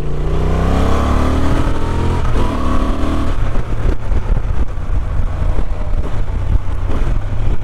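A 2023 Honda XL750 Transalp A2 adventure motorcycle is ridden on the road, its engine giving a loud, continuous drone with a shifting pitch as the rider carries on without pause.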